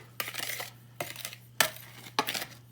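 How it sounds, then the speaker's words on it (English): Cookie-like dough is stirred in a bowl, four separate bursts of scraping and clinking against the bowl, fairly quiet, with a steady low hum underneath and no talking. "I'm going to mix it really well"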